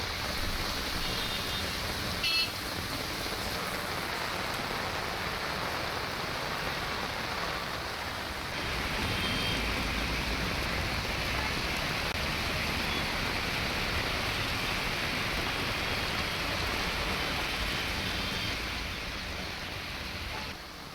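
Heavy rain falls continuously in Bengaluru, a steady broadband hiss with no breaks for about twenty seconds and no voices.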